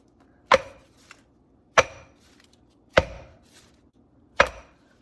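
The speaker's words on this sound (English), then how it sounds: "Now give it a little tap." A ramekin filled with lava cake batter is knocked against a counter four times, each tap a sharp, close, solid thud followed by a short ringing decay, spaced about a second apart.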